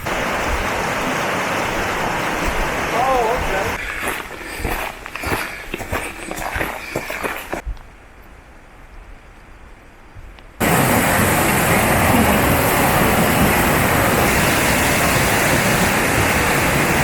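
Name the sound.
Upper Whitewater Falls waterfall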